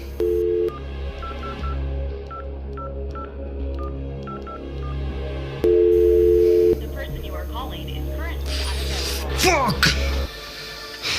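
A run of short telephone keypad beeps tapped out one after another over a steady dial tone, with a low hum underneath and a brief busier stretch near the end.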